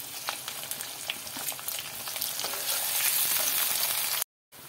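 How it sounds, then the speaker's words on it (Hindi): Crushed garlic cloves and onion fry in hot oil in a pan, a continuous crackling sizzle that grows louder and hisses steadily, then cuts out briefly near the end, with no voices. "ऑयल गरम हो गया है तो डालेंगे लहसुन की कलियां कुटी हुई, प्याज"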